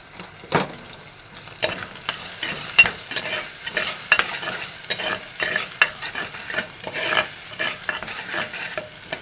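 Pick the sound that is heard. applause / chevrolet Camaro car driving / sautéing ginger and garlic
sautéing ginger and garlic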